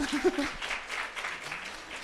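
Audience applause during a Korean business presentation for a health-products company, a short burst of clapping that stays fairly soft and thins out within about two seconds.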